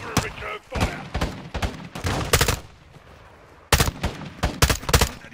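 Bursts of gunfire in the Call of Duty Modern Warfare II video game, rapid loud volleys of shots in several clusters with short pauses between them, and speech is faintly present.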